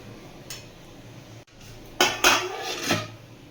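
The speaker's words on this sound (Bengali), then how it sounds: "এবার ভালো করে মিশিয়ে ঢাকা দিয়ে সেদ্ধ করে নেব" Metal clatter of a pot of moong dal being stirred and a lid set on top, a faint tap followed by a few sharp clanks of metal on metal close up, no voices.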